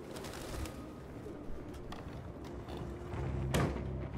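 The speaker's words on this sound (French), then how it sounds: "Toujours des pigeons, toujours des pigeons." Pigeons coo in the video game Detroit: Become Human, soft repeated coos over a faint ambient background with a few light thumps.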